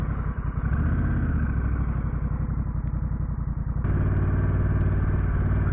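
A Honda Rebel 1100 DCT motorcycle in automatic drive pulls away with a loud, close engine note. Its rapid firing pulses rise steadily, then step to a deeper, fuller drone partway through as the transmission shifts itself.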